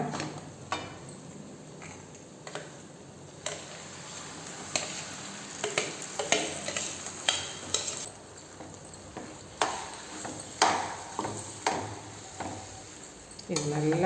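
Pongal being stirred into a curry leaf mixture in a pan, with a soft sizzle under repeated spoon scrapes and knocks against the pan at an irregular rhythm, close by.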